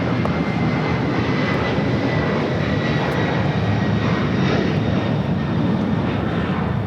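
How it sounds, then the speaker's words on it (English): A LATAM Boeing 767-300ER takes off from LAX bound for Lima, its jet engines making a loud, continuous roar that holds steady throughout, with no talking. "That was LATAM 2479 taking off to Lima on a 767-300ER."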